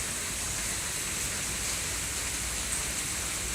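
Heavy rain pours steadily outside during Hurricane Sandy, a dense unbroken hiss at constant loudness with no voices.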